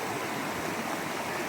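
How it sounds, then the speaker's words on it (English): Water rushes steadily through a gold panning sluice set up in a dammed stream on public land, making a constant close-up wash of flowing noise with no voices. "I got the sluice set up over to the right and dammed off where we had earlier. She's running pretty good."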